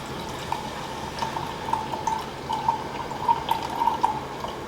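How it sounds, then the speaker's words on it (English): Milk pours into a container sitting on a kitchen scale in a thin, steady trickle that lasts several seconds, with faint splashing and no talk. "And then I'm gonna pour the milk until it comes to 100."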